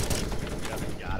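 Rapid gunfire in a first-person shooter match, a dense burst of shots fired through a wall, heavily mixed with players' excited voices.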